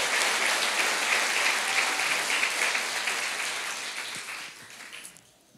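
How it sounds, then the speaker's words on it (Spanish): A church congregation applauds during a sermon, steady broadband clapping that fills the space and gradually fades out near the end. "Yo pienso que Él se merece un aplauso mucho más fuerte."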